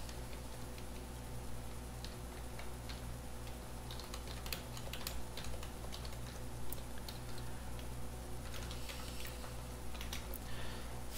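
Quiet, irregular clicks of a computer keyboard as an email and password are typed, light keystrokes arriving in short bursts over a low steady hum.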